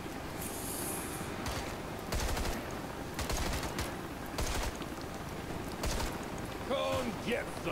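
Gunfire in the zombie shooter game The End: Contagion: several separate bursts of rapid shots crackle over a constant background din, loud and close.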